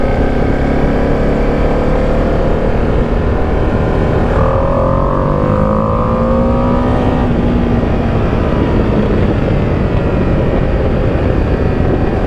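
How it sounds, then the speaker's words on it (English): A 2025 Ducati Panigale V2S motorcycle accelerating hard, its engine a loud, steady roar that rises in pitch midway, close and continuous with no talk. "the bike feels really nice when you accelerate, give it some beans."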